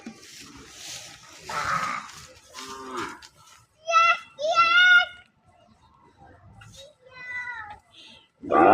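A two-tooth sacrificial cow for Qurbani lets out several drawn-out moos, two close together in the middle and another later, with faint voices and shuffling in the background.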